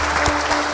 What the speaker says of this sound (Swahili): Situwapigie makofi mara tena.